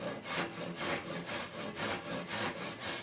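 A Japanese-style pull saw cuts through wood with rapid, even rasping strokes, about eight back-and-forth passes in three seconds, close and steady with no talking.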